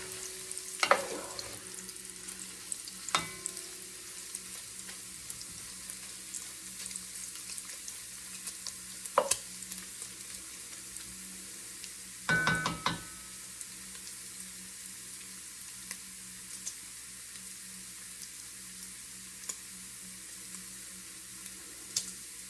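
Bacon sizzles quietly in a pan, a soft continuous frying hiss with a few scattered clinks and a brief burst of handling noise midway, no voices.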